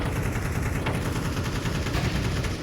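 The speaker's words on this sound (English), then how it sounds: "that's incredible shooting from Brokey, catching the jiggle." Gunfire in a Counter-Strike match plays during a tournament broadcast, with dense, loud rapid shots and bursts packed tightly together over a steady background roar.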